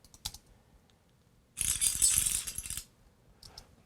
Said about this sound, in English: A little metallic rattling. Big metallic rattling.